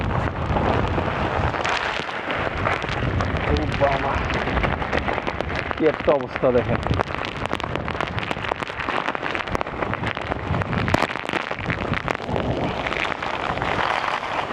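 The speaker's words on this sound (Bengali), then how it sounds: "ছাদে বাতাসের তেজ আরও বেশি" Strong cyclone wind on a rooftop during Cyclone Remal, buffeting loudly with gusty bursts and rain-like patter. Someone talks over the noise.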